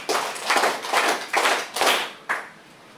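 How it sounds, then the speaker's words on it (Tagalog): A Filipino elementary classroom gives a student five rounds of clapping, heard as five loud, evenly spaced bursts of many hands, each fading before the next, with no talking over them. "bigyan natin siya ng 5 palakpak"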